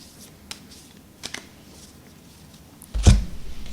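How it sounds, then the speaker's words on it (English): A deck of tarot cards being shuffled by hand, a few soft taps then a sharp close riffle near the end, loud against quiet surroundings. "it doesn't have to be shuffled super well, just enough to imbue your energy"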